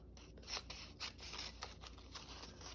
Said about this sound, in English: So I want to cut this at about halfway.